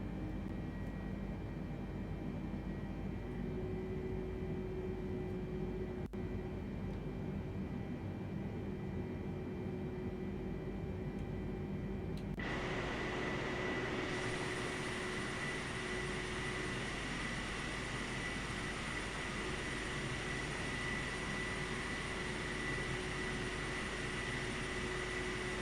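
Boeing 747-8 engines in Microsoft Flight Simulator spool up for takeoff, a steady low rumble and whine that swells abruptly halfway through into a louder, broader roar with a sustained high tone, continuous and without talk.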